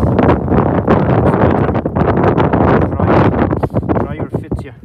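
Strong wind buffets the microphone in a remote, snowy part of Bhutan, producing loud, continuous rumbling gusts while a person talks over it throughout.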